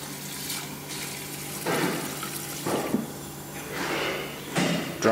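EDM die-sink machine sprayers flush dielectric fluid in the background, giving faint splashing, gushing bursts that come and go in irregular surges.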